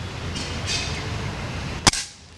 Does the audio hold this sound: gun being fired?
yes